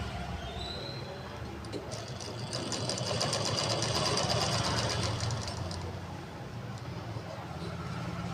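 A sewing machine stitches the lining of a blouse, running steadily and close with a rapid mechanical chatter that swells slightly in the middle and carries on throughout.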